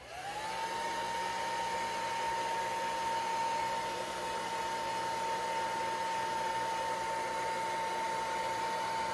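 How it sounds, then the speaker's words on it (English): A heat gun blows steadily and loudly, close by, drying freshly made paper pulp for comic book conservation, its whine rising quickly at switch-on and then holding one even pitch throughout with no talk. "So this heat gun actually is a good technique because it is drying nice."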